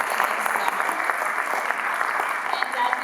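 Audience at a community town hall applauding steadily for several seconds, dense clapping filling the room with a few voices faintly underneath.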